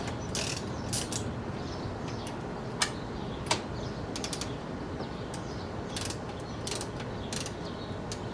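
A ratchet wrench with a 10mm socket loosens the A/C receiver pipe on a 10th-generation Honda Civic, giving off sharp, intermittent bursts of clicking with brief pauses between strokes, close and otherwise quiet.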